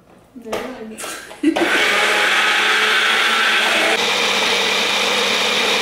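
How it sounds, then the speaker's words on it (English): A blender blending pesto starts after a few brief pulses, then runs steadily with a loud, constant whir for several seconds. "you want to blend the pesto till it has a smooth consistency"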